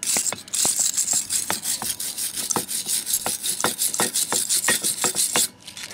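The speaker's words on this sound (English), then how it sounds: "we're gonna take our brush and we're gonna try to clean off all of the crud off of the hardware that's on here" Brush scrubbing crud off brake hardware from a 2014 Chevrolet Cruze, close, loud, rhythmic rasping strokes repeating rapidly and steadily, then stopping near the end.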